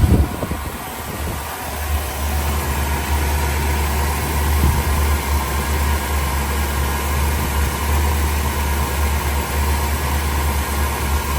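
1976 Pontiac Grand Prix Model J engine idling, a steady low rumble with a constant hum, close and unbroken throughout.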